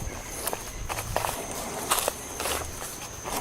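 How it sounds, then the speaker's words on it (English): Footsteps crunching through leaves and undergrowth in woods near Brevard, North Carolina, at a steady walking pace, close by, with a faint high insect hum running underneath. "start walking right down through here"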